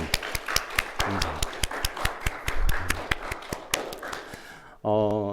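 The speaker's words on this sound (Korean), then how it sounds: "우리 공동체가 모두 하나님께 영광의 박수를 한번 드리면 좋겠습니다" A church congregation at a Korean Sunday service claps together, steady sharp claps in a fairly regular rhythm, moderately close, ending in a brief sung or spoken tone at the end.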